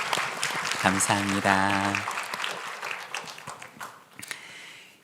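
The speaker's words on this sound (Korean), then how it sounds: "우리 박수로 격려하겠습니다" A church congregation applauds at a Christmas service, a broad steady wash of clapping running under someone speaking, then thinning and fading toward the end.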